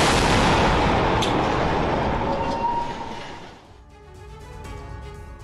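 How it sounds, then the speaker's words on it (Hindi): A night-time Israeli airstrike explodes near a hospital, heard as a loud, sustained broadband roar and rumble that fades after a few seconds into a lower, rattling tail. "रात के अंधेरे में जब ये विस्फोट हुआ, ये धमाका हुआ"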